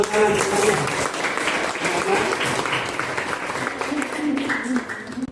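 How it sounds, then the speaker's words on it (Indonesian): A class of students applauds after a group presentation in an Indonesian religious-education lesson, a sustained burst of clapping with voices talking over it throughout. "Tepuk tangan."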